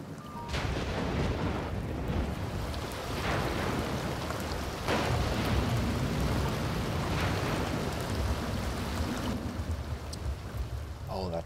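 Heavy rain in The Sims 2 life-simulation game, a loud dense continuous downpour with thunder-like rumbles and occasional sharper cracks, filling the whole stretch.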